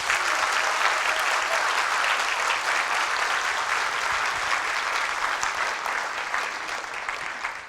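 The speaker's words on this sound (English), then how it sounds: "give them a big round of applause" Sustained, dense applause from an annual meeting audience honoring employees, steady and full for the whole span and easing slightly near the end.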